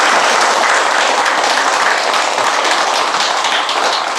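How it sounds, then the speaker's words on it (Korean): A loud, dense burst of audience applause for a choir at a Buddhist dharma talk, with many hands clapping together continuously and close, tapering slightly at the end. "이럴 때 박수도 보내줘야 힘이 날"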